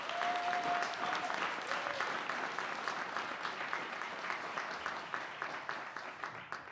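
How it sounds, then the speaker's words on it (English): A crowd at a city inauguration ceremony applauds its elected officials with sustained, fairly loud clapping from many hands, a brief tone sounding near the start and the applause thinning slightly toward the end. "we do deserve to give another round of applause to our elected officials"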